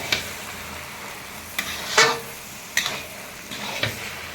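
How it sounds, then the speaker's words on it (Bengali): Mixed vegetables for shukto cooking in a little oil with ground mustard and cumin, stirred in a pan: a low steady sizzle broken by several sharp spoon scrapes and clinks, close and fairly loud. "এটাকে নাড়তে ভালো করে, এটা অল্প তেলে রান্না।"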